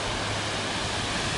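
Golden Waterfalls in Taiwan: a steady, broadband rush of falling water, continuous and fairly close, with no voices over it.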